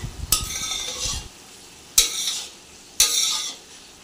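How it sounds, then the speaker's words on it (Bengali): Masala spices frying with marinated chicken in a pan, with a loud close sizzle and three sharp bursts of stirring scrapes spaced about a second apart. "এবার মশলা কষানো হয়ে যাচ্ছে"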